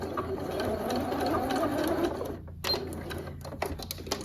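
A sewing machine runs steadily through a back stitch on dress fabric, a close continuous mechanical whir that briefly pauses before resuming in short bursts.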